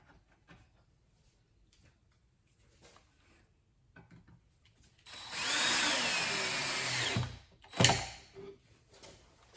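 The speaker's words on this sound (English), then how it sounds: "You know, from the feel of it and the sound of the drill, when to stop." A power drill drives screws into dining chair parts in two bursts, a long whirring run and then a shorter sharp one, set against quiet room tone with small creaks and handling knocks.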